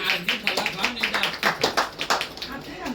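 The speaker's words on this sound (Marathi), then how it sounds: "टाळ्या वाजवा सर्वांनी" Guests at a home Ganpati celebration clap in a quick, uneven patter of hand claps, close and fairly loud, with a voice speaking over the applause.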